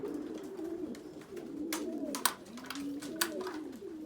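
Racing pigeons coo at their loft after a 150-mile race in Eastman, Georgia: several rolling, throaty coos overlap near the listener, broken by a few sharp clicks and flutters.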